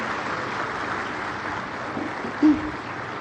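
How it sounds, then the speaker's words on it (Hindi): A large crowd at a public event with Prime Minister Narendra Modi in Nadia district, West Bengal, applauds in a broad, steady wash of clapping heard from afar, with a brief louder swell partway through. "आप सभी की ओर से जोरदार तालियां बनती रहे।"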